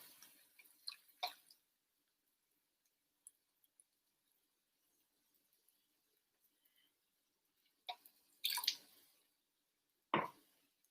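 About half a cup of starchy pasta water is poured into a pan of zucchini linguine and stirred, giving brief wet splashes and squishy sloshes separated by long near-silent pauses, quiet and close, with no talking.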